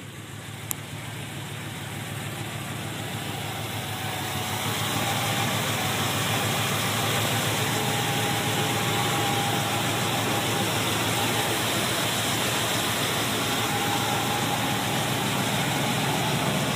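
A Ford truck with 100,000 original miles starts and settles into a steady, broadband idle, a constant rumbling hiss that grows slightly louder after a few seconds and then holds evenly with no talking.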